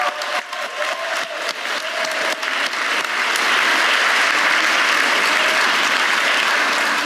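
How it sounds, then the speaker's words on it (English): An audience at a university nursing graduation ceremony for an inaugural doctoral nurse anesthesia and acute care practitioner class claps loudly and continuously, scattered claps at first merging into a dense, sustained roar. "Let's give them applause."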